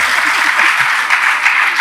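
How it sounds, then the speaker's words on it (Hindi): An audience at a Jain religious question-and-answer discourse at Gunayatan, Shikharji, Jharkhand, bursts into dense, loud, continuous applause that fills the whole moment. "बजाओ ताली जोर से।"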